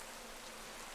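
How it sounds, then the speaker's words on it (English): Rain falling in a Pokémon video game, a soft, even hiss of rainfall that holds steady for a brief moment with no other sounds over it. "Oh hey, it's raining."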